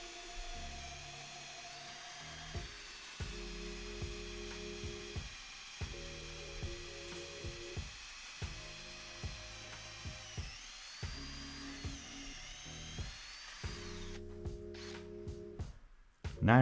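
A Ferrex 20V cordless impact drill from Aldi bores through wood with a slightly worn bit, whining in a series of short bursts with brief pauses between them, fairly faint, with no talk.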